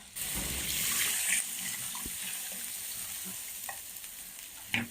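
Duck stir-frying with dried chilies in a wok, a steady bubbling sizzle and hiss of liquid cooking, with light scraping and clinks of the spatula near the end.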